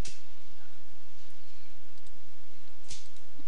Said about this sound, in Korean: 마우스 왼쪽 클릭, 마우스 오른쪽 클릭해서 피니시 해주시고요